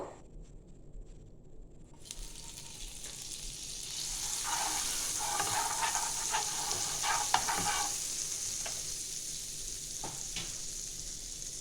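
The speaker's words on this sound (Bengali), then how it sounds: "আমি এগুলো আবার কড়াতে সেঁকবো। আমি এবার উপর থেকে একটু বাটার দিয়ে দেবো।" Bread slices toasting in butter in a kadai over medium-low flame, a steady sizzle that starts quietly and swells after a couple of seconds, with faint stirring and scraping scattered through, no talk.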